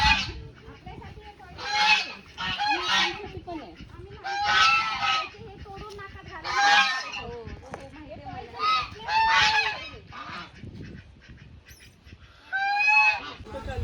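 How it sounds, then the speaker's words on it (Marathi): Loud, nasal honking calls come in repeated bursts close by, several birds squawking over one another with short pauses between. "आणि हे बदक त्यांची कशी ठेवली पाहिजे"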